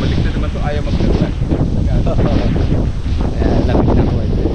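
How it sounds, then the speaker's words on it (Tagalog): Strong outdoor wind buffets the microphone in a calamansi orchard, a loud continuous low rumble with gusty broadband roar throughout, and talk barely emerging beneath it. "Oo, lakas ng hangin."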